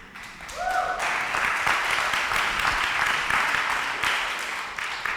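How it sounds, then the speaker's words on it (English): Audience at a talk breaking into applause, a short tone sounding first, then a sustained crowd clapping texture of many hands that tapers off near the end. "I also planned an applause there."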